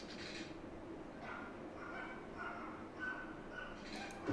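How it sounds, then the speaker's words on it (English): A beagle puppy down the hall of a house, faint high whimpers and small yips repeating at a distance, with a person talking nearby over them. "I hear the little beagle puppy dog down the hall"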